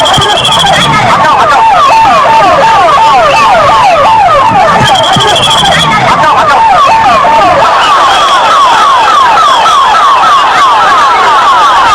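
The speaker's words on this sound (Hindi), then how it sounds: "चीख पुकार मची तो एम्बुलेंस पहुंचना शुरू हुई मौके पर" Ambulance sirens arriving at a crowded scene wail in a rapid rising-and-falling pattern, loud and close, layered over a thick babble of many voices and shouting from the crowd.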